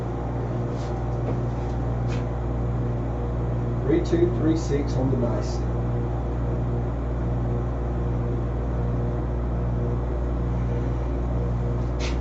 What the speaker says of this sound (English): going to have to cut this air conditioner on